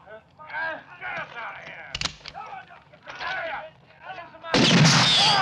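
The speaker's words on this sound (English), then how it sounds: "They're firing at us." Gunshots ring out in a western film shootout: a sharp crack partway through, then a loud sustained blast at the end, with people talking in between.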